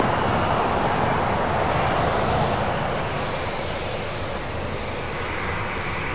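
A Delta Airbus A319 airliner at LAX, its engines a steady, loud broadband roar that holds and then eases slightly as the jet passes at close range.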